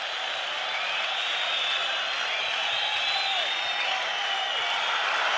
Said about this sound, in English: The crowd are on their feet once again.